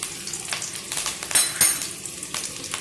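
Onion and curry leaves crackle in sesame oil for a tamarind okra curry. The steady sizzle rises into several louder pops and scrapes as the pan is stirred, with no voices.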